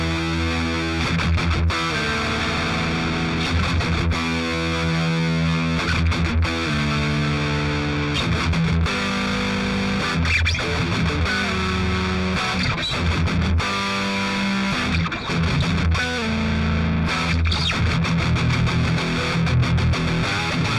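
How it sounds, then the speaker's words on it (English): An electric guitar plays through a VOX Cambridge50 amp on its Double Rec model, a modern metal high-gain setting. Heavily distorted riffs and sustained chords ring loud and continuous with a strong mid-range, and there is no talking. "let's move on to the final amp model, which is the double rec"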